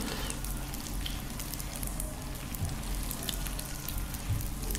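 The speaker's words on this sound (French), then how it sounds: "Quand vous faites cuire les briques, vraiment vous surveillez parce que c'est hyper rapide." Brick pastry berek filled with meat and cheese fries in hot oil, giving off a steady, close hiss and crackle with no voices.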